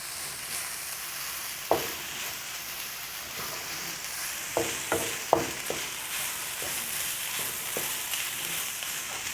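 Onion and shallots sizzle steadily in a pan as the base for Taiwanese braised pork, a continuous close frying hiss broken by several clinks and scrapes of stirring.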